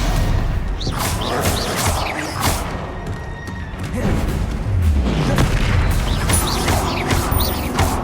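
Repeated Confringo explosion spells in a wizarding video game, a dense run of booming blasts and crashing impacts lasting throughout, with a horse-like whinny mixed into the loud game action.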